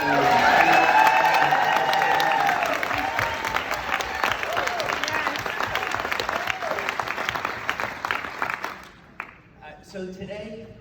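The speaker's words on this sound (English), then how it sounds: "could we have a nice round of applause for Dr. Stacy and Marshall" A morning event audience gives a round of applause, with loud sustained clapping and some cheering. It thins out near the end as a voice starts.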